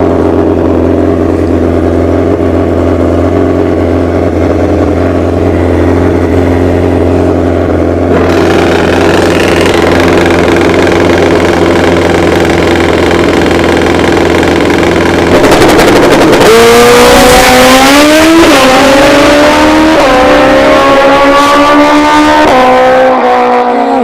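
NHRA bracket drag racing cars at Bradenton Motorsports Park rumble loudly at idle, then build and roar hard down the strip, their engine revving rising and shifting close and very loud.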